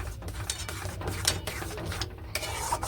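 Steady scraping and stirring of thick mango pulp in a pan over low heat while making mango papad, a soft continuous spoon-on-metal sound with occasional clinks.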